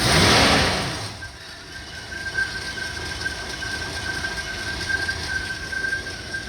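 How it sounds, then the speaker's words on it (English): A Ford Granada 2.8 idling, its alternator giving off a thin, steady high-pitched chirp over the low engine hum after an initial louder burst of noise. "So you can hear the alternator charging away, that little chirping noise."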